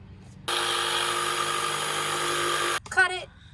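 A power tool cutting a wooden board for a van wall, a loud steady whining buzz that starts abruptly, holds for about two seconds, then cuts off, followed by a brief spoken remark.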